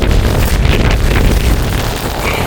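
Strong wind buffeting a microphone outdoors during snowfall in Denmark, loud low rumbling gusts with roaring bursts that swell and ease, close and heavy, with no voices over it.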